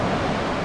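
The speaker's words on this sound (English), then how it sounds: "Here comes the wave." Sea waves breaking on the beach at Lyme Regis, a brief burst of dense, steady rushing surf, loud and close with no voices.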